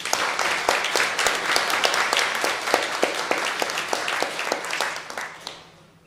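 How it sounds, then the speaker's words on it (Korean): Church congregation clapping to welcome a visiting deaconess and her son, a steady run of many crisp hand claps that fades out near the end, with no talking over it. "우리 박수 한번 합시다"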